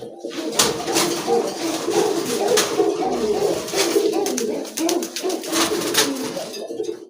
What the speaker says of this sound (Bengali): একটা কিন্তু বাললেস কবুতর এটা হচ্ছে আপনার ব্লু বাললেস না গ্রে বাললেস